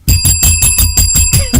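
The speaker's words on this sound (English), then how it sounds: "Ring that bell." A bicycle bell rings rapidly and loudly, about eight bright metallic dings in quick succession with no pauses between them.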